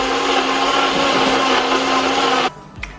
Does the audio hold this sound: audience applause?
no